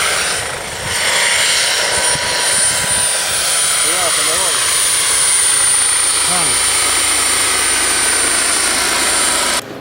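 An RC model BO-105 helicopter with a Jakadofsky turbine of about 8 horsepower at 93,000 rpm runs with a steady loud high-pitched whine and broadband roar, with a voice talking faintly underneath.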